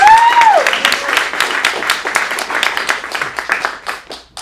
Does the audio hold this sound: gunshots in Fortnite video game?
no